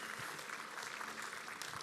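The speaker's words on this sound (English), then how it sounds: "Can we applaud the Lord this morning?" A church congregation applauding during a morning service, a brief, steady patter of many hands at moderate distance with no voices.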